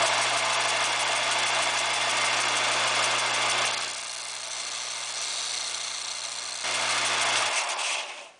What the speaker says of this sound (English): So I'm going to take it back to the belt sander and trim off maybe a 32nd of an inch.